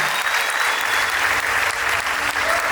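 Wedding guests clap for a newlywed couple at an Ethiopian wedding, a dense, steady burst of applause from a crowd that runs evenly throughout.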